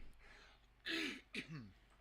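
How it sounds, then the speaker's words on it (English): Someone nearby clears their throat twice, a rough rasping burst followed by a shorter one, in an otherwise quiet room. "I'm probably going to have to clear my throat for a little bit"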